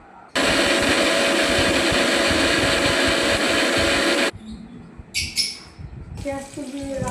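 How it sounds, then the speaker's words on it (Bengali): A mixer grinder whirs loudly and steadily for about four seconds as it grinds cashew nuts and spices into a paste, then stops abruptly, leaving clinks and faint kitchen sounds. "এবার আরও একটা কাজু বাদাম দিয়ে আর একটা মশলা দিয়ে পেস্ট করছি"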